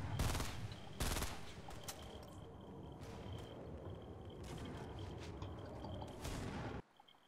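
Rapid automatic gunfire in the video game Fortnite, dense sustained bursts that start loud, continue steadily, and cut off abruptly near the end.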